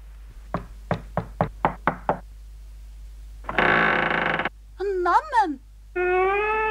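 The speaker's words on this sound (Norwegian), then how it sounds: "Bank på, Pilt." A run of seven crisp knocks on a door in a 1970s Norwegian children's TV show, followed by a buzzing rasp and warbling electronic-sounding voices.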